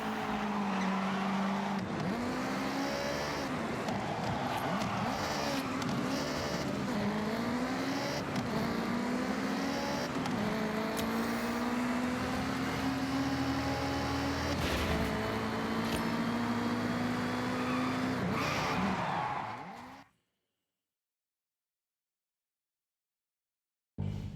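Car driving in Forza Horizon 6: a loud, continuous engine roar rises and falls through gear changes for about twenty seconds, with tire noise, before cutting abruptly to silence.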